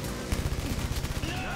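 Rapid gunfire rings out in the VR shooter Blood and Truth, a dense rattle of shots repeating steadily across the moment with some game ambience underneath.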